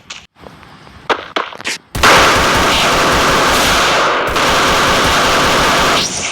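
After a few sharp separate clicks and taps, continuous MP14 gunfire erupts in the video game Free Fire, a loud dense sustained burst lasting several seconds with a brief change midway, no speech.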